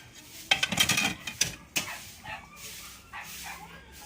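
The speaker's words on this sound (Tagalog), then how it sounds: "Ibalik sa lagayan ang plato sapagkat mayroon na pala doon" A few clinking clatters of a plate being set back down in a dish rack among dishes, followed by quieter rustling and faint kitchen noise.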